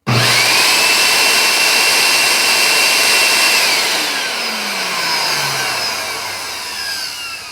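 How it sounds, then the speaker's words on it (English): A small, powerful vacuum cleaner motor runs on its own, switching on abruptly into a loud, close, steady high whine that eases slightly in pitch and level as it keeps running. "that's one powerful little motor for a vacuum cleaner"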